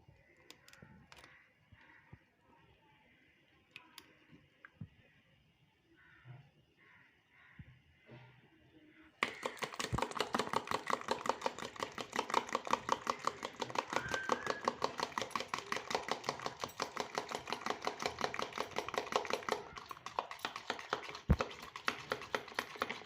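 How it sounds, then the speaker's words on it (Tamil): Egg being mixed into mashed banana for pancake batter, a fast steady run of close tapping and clicking strokes in a bowl that starts abruptly and continues, after an earlier stretch of quieter sporadic taps. "முட்டையை போட்டு இந்த மாதிரி நல்லா மிக்ஸ் பண்ணி விடுங்க"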